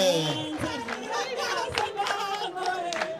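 Hand clapping at a wedding celebration, a few people clapping in loose rhythm over a background of singing voices and music, moderately close and steady throughout.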